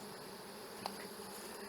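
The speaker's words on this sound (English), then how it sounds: "There's a whole lot of bees on the bottom" Honey bees buzz steadily in an open hive box during a swarm check while supers are being added, a dense continuous insect hum with one brief sharp tap partway through.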